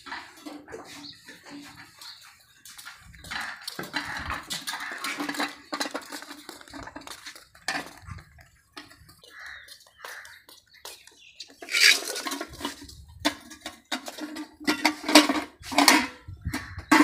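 Dishes and metal utensils clink and rattle as they are carried and handled in a home kitchen during a morning routine, with scattered light knocks throughout that grow louder and busier toward the end.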